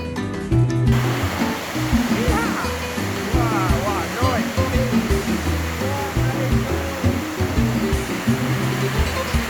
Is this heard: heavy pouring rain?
yes